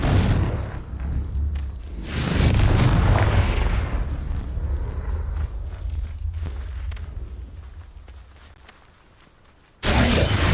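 Explosive Confringo spell blasts boom in Hogwarts Legacy, a couple of loud rumbling bursts that fade into a long decaying tail before another sharp blast hits at the end.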